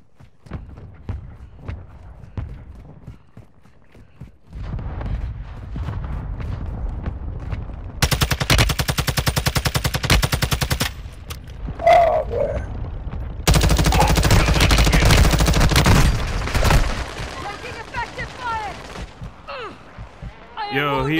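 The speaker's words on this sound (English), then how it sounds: "Friendly mortar strike on the way." Heavy artillery-style barrages from a friendly mortar strike in Call of Duty Modern Warfare II crash in two loud, dense bursts, surrounded by scattered gunfire and footsteps, with voices talking between them.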